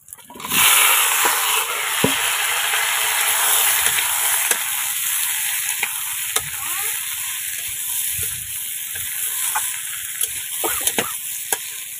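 Steady, loud sizzling of fried potatoes with spices in a hot pan, with occasional scraping and stirring clicks throughout.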